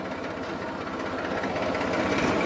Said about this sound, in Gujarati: ટ્રેક્ટર હવે બહાર કાઢવાનું છે